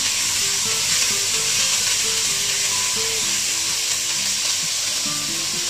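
Meat frying in hot vegetable oil for a goulash with rice, a steady hiss of sizzling close up that runs unbroken the whole time, with faint stirring and clinking under it and no talk.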